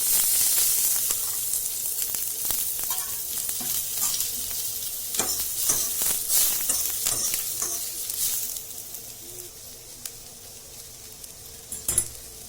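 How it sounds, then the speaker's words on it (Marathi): Hot oil tempering sizzles over palak vadi bhaji, a bright, hissing crackle that starts loud and steady, then gradually fades over about twelve seconds, with scattered stirring clicks and a final few sharp knocks near the end, no voices. "आता आपण वरतून थोडा तेलाचा काटा टाकू"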